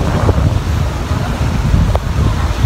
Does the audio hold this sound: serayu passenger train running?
no